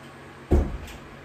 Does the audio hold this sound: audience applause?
no